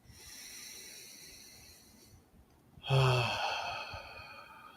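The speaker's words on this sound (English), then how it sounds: "take a deep breath. Another deep breath." Deep breath taken during a guided breathing exercise, a soft drawn-out airy breath followed by a louder, sharper intake or release of air, close and alone.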